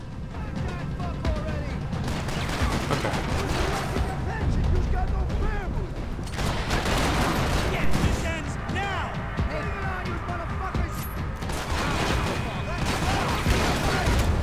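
Dense, continuous gunfire from the Max Payne 3 video game, with rapid overlapping shots, booms and clattering mechanisms in a loud, unbroken combat barrage, and a voice talking over it at times.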